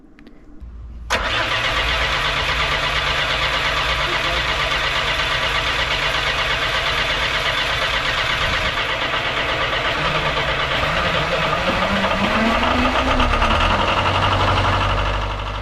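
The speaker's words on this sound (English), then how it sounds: "let him help us get the engine running" A boat's diesel engine cranks and catches abruptly, then settles into a loud, steady idle with a rough, knocking rumble that continues throughout.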